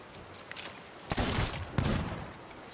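Sniper gunfire in a pirate video game: two sharp, loud shots about half a second apart, each with a short noisy tail, after a few fainter pops.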